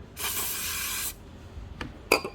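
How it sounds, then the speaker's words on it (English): A close aerosol spray of sticker remover on a car wheel hisses in one sustained burst of about a second, followed by a couple of quieter short taps and clicks. "Spray some over here."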